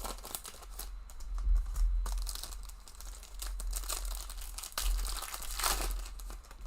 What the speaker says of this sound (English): They're making the 2025 packs harder to rip.